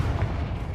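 A Confringo spell blast in Hogwarts Legacy hits as a loud, low, booming burst that rumbles through under a second of sound.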